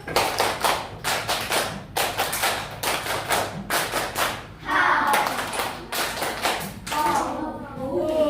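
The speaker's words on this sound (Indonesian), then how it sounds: "Tepuk semangat 1, 2, 3." A class of children performing a rhythmic spirit clap in a school classroom, several short bursts of synchronized claps separated by brief pauses, with children's and a teacher's voices calling the counts between them.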